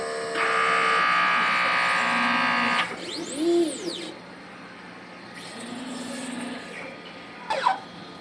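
An inkjet printer with an ink tank system runs a nozzle check after a head cleaning, giving a steady buzzing mechanical whir for a few seconds, then quieter intermittent motor hums and brief clicks, with faint whistling tones in the background.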